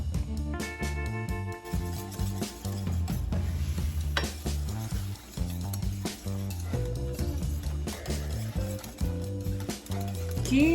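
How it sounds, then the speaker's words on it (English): Instant mashed potatoes, made from potato flakes and milk, being stirred in a pot: steady scraping and clinking of a utensil against the pot, with rhythmic tapping and a faint sizzle running throughout, fairly close. "Key to making instant potatoes is you just keep stirring."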